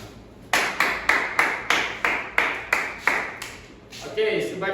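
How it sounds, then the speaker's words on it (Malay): A classroom of students claps for a classmate in a short burst of about ten evenly spaced, sharp group claps, followed by a brief murmur of voices. "Okey, bagi tepukan pada Adham."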